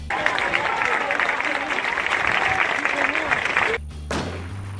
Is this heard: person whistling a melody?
no